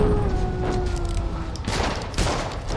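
A rapid fusillade of gunfire rattles continuously in Dungeon Siege 3, loud and close, with sharper bursts of shots punctuating the steady volley.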